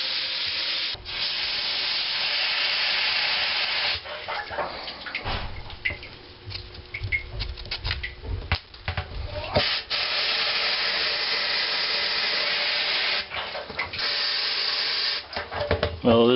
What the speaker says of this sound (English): Now just rinse it down really good.